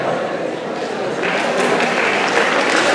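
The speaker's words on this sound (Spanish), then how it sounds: "Fuerte, fuerte los aplausos" Audience applause at a school swearing-in ceremony, a dense, steady clapping that swells slightly toward the end, with a voice talking over it.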